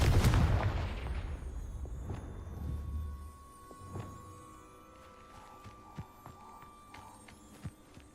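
A Confringo blasting spell goes off in Hogwarts Legacy with a loud, booming explosion that rumbles and fades over a few seconds, followed by scattered quieter clicks and knocks.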